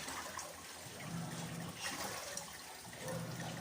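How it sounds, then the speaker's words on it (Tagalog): A Panasonic automatic washing machine spins its tub while filling, the low motor hum underneath a steady trickle and splash of incoming water, fairly quiet and continuous. "Nag-start ulit siya mag-spin habang naglalagay siya ng water."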